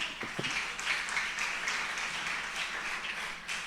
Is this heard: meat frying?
no